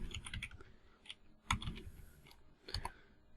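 Someone types a router configuration command on a computer keyboard while setting up a Juniper vMX router. Close, quiet key clicks come in quick bursts with short pauses between them, with no talking.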